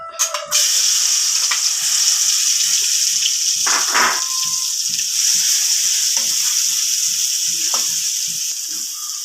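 Masala-coated chips drop into hot coconut oil and set off a loud, steady hiss of frying up close, with a run of soft, evenly spaced pops and bubbles beneath it.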